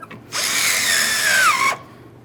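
A power tool drives two 10mm bolts snug on a rear bumper bracket of a 2012-2018 Nissan Altima in one close, loud whir of about a second and a half, with pitch falling toward the end; no one talks.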